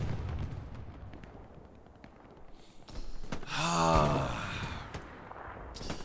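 A rocket explodes in the World War II shooter Hell Let Loose on the Omaha map, a low distant boom with a rolling rumble that swells and fades over a steady wash of battlefield noise.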